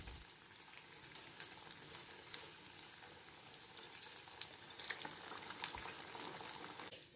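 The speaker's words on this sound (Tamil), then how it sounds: "மீடியம் ஃப்ளேம்லேயே வச்சு ஃப்ரை பண்ணுங்கள்." Potatoes and eggs frying in oil over a medium flame, a steady close sizzle and crackle running throughout with small spits and pops, no talking.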